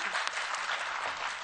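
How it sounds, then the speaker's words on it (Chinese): Loud, steady applause fills a Yilan County Council hall during a county council session, dense clapping sustained throughout without a break. "那我们以最热的掌声感谢阿丽"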